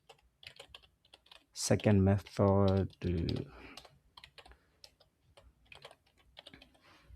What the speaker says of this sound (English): I'm so fast with this keyboard.